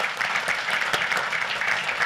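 Steady audience applause for a high school debate team and coaches at a city council meeting in Carrollton, dense continuous clapping from a seated crowd for about two seconds, no talking.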